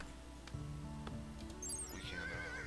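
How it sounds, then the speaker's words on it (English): A horse in the video game Rimworld whinnies, rising and then falling, over a steady bed of background music, with soft hoof clops mixed in near the start. "And our animal this time is a horse"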